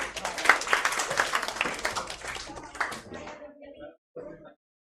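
Audience clapping for a student topper at an award ceremony, a burst of dense applause that fades out over a few seconds, with a voice speaking near the end.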